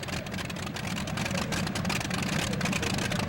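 A loud, steady roar from a pulling tractor's twin 1,710 cubic inch Allison V12 engines, over 4,000 horsepower, runs throughout, a thick continuous rumble with no pauses.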